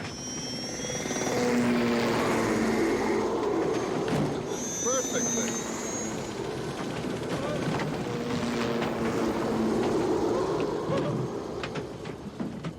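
Steady whirring rotor and engine noise of a helicopter in flight fills the clip, with a voice speaking briefly over it.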